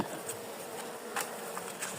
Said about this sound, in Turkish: O arılar öbür tarafa geçecektir.